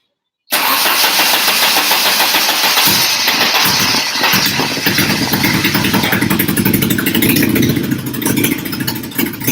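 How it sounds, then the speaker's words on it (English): A rally car engine fires up abruptly and runs loud and close during a test, revving with a rough, steady roar throughout. "We're going to go over and test our engine,"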